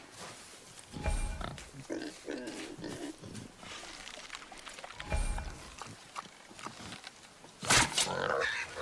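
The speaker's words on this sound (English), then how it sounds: "Wild boar's hide is thick." A wild boar in God of War (PS4) gives a few deep grunts and snorts among impacts and bursts of action, with a voice speaking between them.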